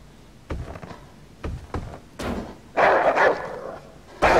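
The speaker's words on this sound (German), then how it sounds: "Oh, ein Hund, Alter, ein Wolf!" A wolf or dog barks in the survival game H1Z1: several sharp, fairly close barks in short bursts, followed by a louder snarling growl, with no talking.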